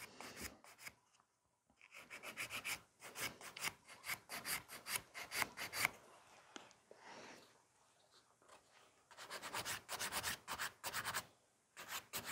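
A nail file scrapes back and forth over a sculpted acrylic nail with glitter flakes and mylar encapsulation, in quick rhythmic strokes that come in bursts with short pauses, close and fairly loud.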